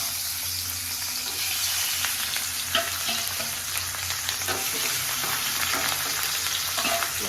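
Pieces of rohu fish fry in hot mustard oil in a home kitchen, giving a steady, close sizzle with light crackling pops throughout and no talking.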